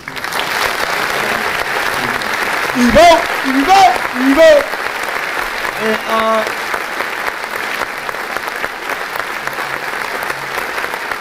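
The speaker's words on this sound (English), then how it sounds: "They give him a round of applause." A Hollywood audience breaks into loud applause that swells and fades over several seconds, while someone talks over the clapping throughout.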